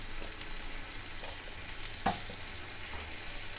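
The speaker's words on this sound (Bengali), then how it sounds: "এবার এটা নেড়ে নেব।" Spinach curry stirred in a pan over high heat, with a soft steady sizzle and faint scraping, plus one sharp clink of the spoon against the pan near the middle.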